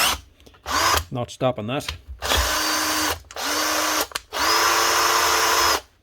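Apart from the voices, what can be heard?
Hikoki DV 18 DGL cordless drill running at low speed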